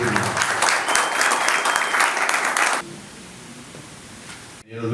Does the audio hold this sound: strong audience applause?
yes